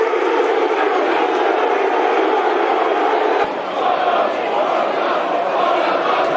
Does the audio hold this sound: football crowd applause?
yes